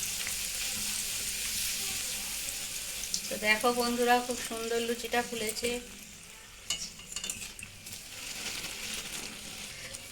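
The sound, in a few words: dal puri frying in hot oil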